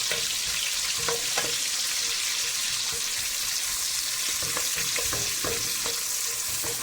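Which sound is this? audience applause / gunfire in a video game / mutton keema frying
mutton keema frying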